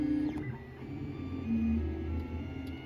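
A 3D printer hums steadily in a home workshop, a continuous mechanical drone with shifting motor tones as it runs a fluid-bed powder coating chamber print starting at 3 millimeters, no speech over it.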